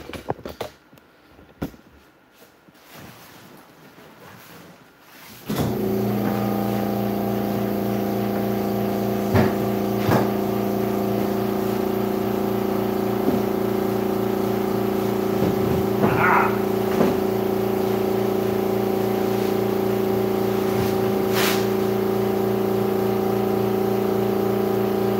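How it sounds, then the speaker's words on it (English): A compressor in a van starts abruptly after a few seconds of muffled handling noise, then runs on with a steady, loud, humming drone. Occasional clicks and knocks sound over the hum. "Oh, so that's compressor."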